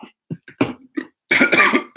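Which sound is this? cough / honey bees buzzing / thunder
cough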